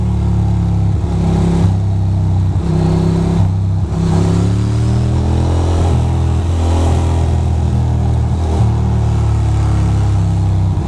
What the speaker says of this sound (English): People just driving next to each other.